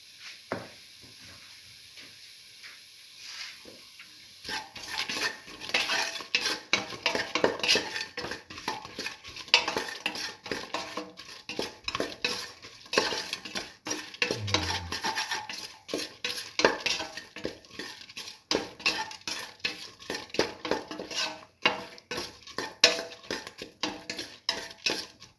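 A spoon scrapes and stirs red lentil and bottle gourd stew in a pot, busy irregular clinks and scrapes with a faint sizzle, close and continuous after a quiet opening.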